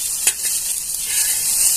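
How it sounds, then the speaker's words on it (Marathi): Close, steady sizzling of okra frying on a hot griddle, with a brief stir or scrape near the start. "आता आपण भेंडी काढून घेऊया आणि तव्यावरच भेंडी बनवतो"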